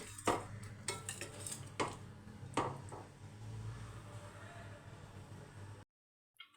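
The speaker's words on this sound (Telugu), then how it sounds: "ఇందులో ఫ్రెష్ క్రీమ్ వన్ టేబుల్ వేసుకొని ఒకసారి కలుపుకొని" Fresh cream being stirred into palak paneer in a pan, several sharp spoon-against-pan knocks and scrapes over a low background, ending in a brief silence and one last clink.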